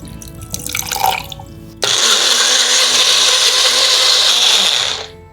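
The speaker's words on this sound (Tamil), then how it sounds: "கொஞ்சமாக தண்ணி விட்டு அரைச்சிக்கலாம்." An electric mixer grinds boiled potato, cooked black rice porridge flour, garlic and salt with a little water, starting abruptly as a loud steady whirring roar that holds for about three seconds before winding down, after a brief clatter of ingredients.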